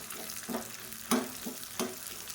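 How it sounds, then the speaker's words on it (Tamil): Small onions and green chilies sauté quietly in a pan for sambar, a soft steady sizzle broken by a few sharper scraping stirs of a spoon. "இந்த வெங்காயம் நல்லா ப்ரௌன் கலரில் வதங்கணும்,"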